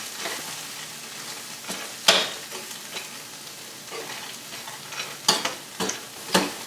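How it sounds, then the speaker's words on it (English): Cashews toast in a hot pan with a steady sizzle while a utensil stirs them, scraping and clacking in irregular strokes close by. "cooking our cashews like this and getting a little bit of a char on them is actually going to release the natural oils in the nut"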